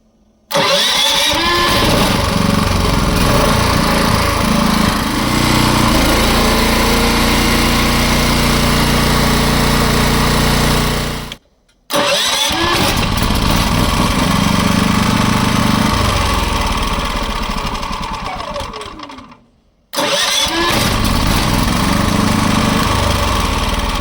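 A Champion 3.6 kW hybrid generator's engine runs loudly and steadily, cutting out abruptly twice for a moment before restarting each time, with no one talking.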